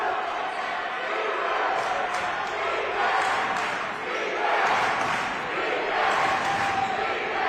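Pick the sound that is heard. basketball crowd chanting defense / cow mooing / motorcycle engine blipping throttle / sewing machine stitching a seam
basketball crowd chanting defense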